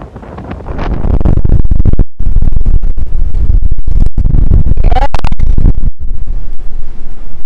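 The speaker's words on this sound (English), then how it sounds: "That's the wind." Loud, sustained wind buffeting the microphone in open English countryside, roaring and rumbling with gusts that rise and fall throughout, no voices.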